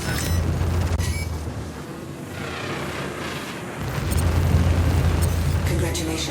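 Video game explosion as a destroyed target blows up, a rumbling boom layered under a continuous loud game soundscape with announcer-style voice lines.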